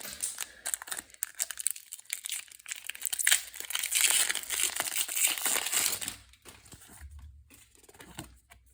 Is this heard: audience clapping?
no